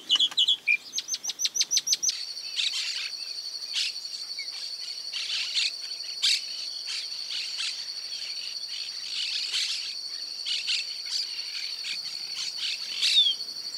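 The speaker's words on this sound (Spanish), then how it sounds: "No podía faltar una calandria de variado canto." A chalk-browed mockingbird sings a varied song in the countryside at Paso de las Piedras, Santa Fe, Argentina. Its phrases come in bursts over a steady, high insect drone, after a quick run of sharp clicks at the start.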